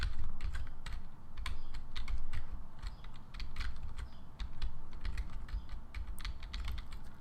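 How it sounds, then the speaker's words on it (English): Rapid, continuous mashing of a computer keyboard during a Binding of Isaac: Rebirth gaming session, dense clattering keystrokes close and steady for several seconds with no voices. "I tend to mash my keyboard a little bit more than normal."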